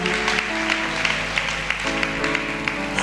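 A church congregation applauds at a sermon, giving steady, dense clapping that fills the space, with a few louder individual claps standing out over a faint held tone.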